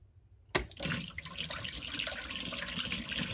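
Water draining from the bottom drain of a collapsible foot spa bath, a steady close splashing trickle that begins abruptly after a short silence and continues without talk.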